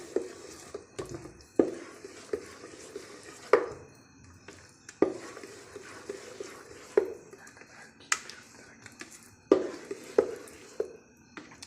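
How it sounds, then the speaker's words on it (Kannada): A spoon mixes freshly ground rice batter in a bowl, giving soft wet scrapes punctuated by sharp knocks against the side about once a second, close up and with no talking. "ಈಗ ಇದನ್ನ ಒಂದು ಚಮಚ ತಗೊಂಡು ಕ್ಲೀನಾಗಿ ಮಿಕ್ಸ್ ಮಾಡ್ತಾ ಇದ್ದೀನಿ"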